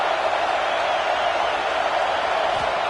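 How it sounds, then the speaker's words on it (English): A stadium crowd in a football video game makes a continuous, dense roar, loud and unbroken throughout, with no distinct voices standing out. "This crowd trying to make life miserable for this offense."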